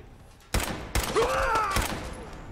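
Gunfire in Fallout 4: a few sharp shots ring out in quick succession, followed by a sustained noisy burst with rising whistling tones, loud and close.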